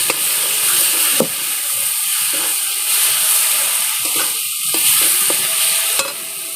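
Spice-coated sea crab masala with garam masala powder sizzles and fries steadily in a hot pan, broken by repeated scraping clicks of stirring, close and continuous throughout.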